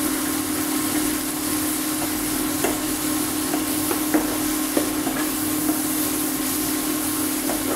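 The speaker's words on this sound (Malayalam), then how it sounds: "നല്ല ഗോൾഡൻ കളർ ആവുന്നതോടും വരെ വഴറ്റണം" Onions with three green chillies and chopped garlic sauté in a pan for sweet and spicy chicken, a steady close sizzle with occasional stirring scrapes and clicks over a constant hissing bed.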